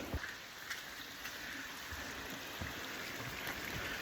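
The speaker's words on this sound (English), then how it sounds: "now the only noise is water dripping off of trees and then small little waterfalls" Water drips from trees and runs down small waterfalls beside a forest hiking trail on the Appalachian Trail, a soft steady wash of trickling with no voices.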